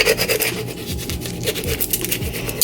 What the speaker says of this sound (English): I'm going to take my X-Acto knife to cut off the excess